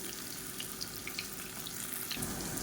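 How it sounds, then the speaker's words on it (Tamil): Raw banana slices fry in hot oil on a tawa, giving a continuous, watery-sounding hiss with fine crackles that swells slightly near the end, with no voices. "எண்ணெய் நல்லா சூடாயிடுச்சு. ஒவ்வொரு வாழைக்காயாக சேர்த்துக்கலாம்."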